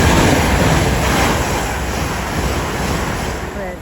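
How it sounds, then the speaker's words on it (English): A Heathrow Express train running from London Paddington to Heathrow Terminal 5 rushes through West Ealing station, a loud, close, broadband roar of wheels and rushing air that fades slightly toward the end. "The first being a Heathrow Express service going from London Paddington to Heathrow Terminal 5."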